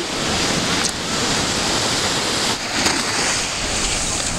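Steady roar of surf rolling onto a beach at Negombo, Sri Lanka, with wind gusts buffeting the microphone throughout and no voices.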